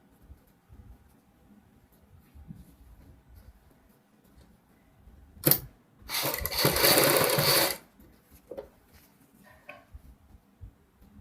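Sewing machine stitching the folded margin of a saree, a quiet ticking mechanism followed by a short sharp clack and then about two seconds of loud steady whirring stitching, then soft handling clicks.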